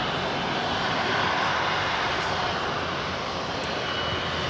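An Airbus A330-300 jet airliner at LAX gives a steady, loud broadband engine roar that holds at an even level for the whole stretch, with no talk over it.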